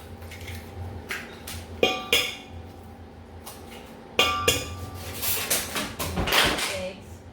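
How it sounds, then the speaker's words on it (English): Three large eggs cracked one after another against a bowl in a home kitchen while making madeleines, sharp clinking taps and shell cracks spaced a couple of seconds apart, with a voice talking at times. "So let's put in the 3 large eggs."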